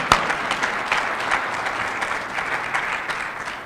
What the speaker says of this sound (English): yeah, you can clap on that